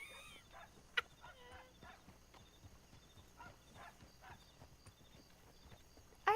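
Steady hoofbeats clip-clop at a walking pace, faint and close, with a few sharp clicks and brief tonal game sounds over the top.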